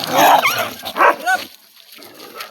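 A dog yelps and barks in short bursts during a dog fight, sounding agitated, with a brief squeal, then quiets down to faint background noise.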